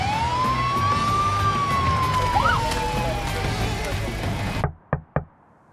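A New York State trooper's police siren wails loudly and rises and falls steadily, then cuts off abruptly, followed by a few sharp knocks.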